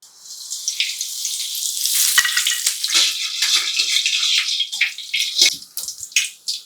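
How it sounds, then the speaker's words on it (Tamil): Cumin, fennel, kalpasi and cardamom sizzle in hot oil in a pan for an egg kulambu, a bright, hissing crackle that swells and settles with short spattering pops, close and fairly loud with no talk. "சீரகம், சோம்பு, கல்பாசி, ஏலக்காய் எல்லாம் சேர்ந்ததை போட்டுக்கிடுவோம்."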